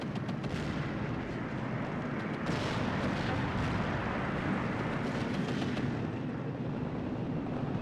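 Bomber strike in the Steel Division 2 World War II strategy game: a sustained, dense barrage of heavy explosions and rumbling blasts that rolls on continuously, loud and close, with bursts swelling at several points.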